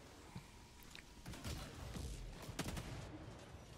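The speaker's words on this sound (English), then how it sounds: "Who put that mortar down and keeps shooting me?" Mortar and gunfire in a shooter video game against robots, a dense, fairly faint barrage of shots and thuds layered over a rumbling background.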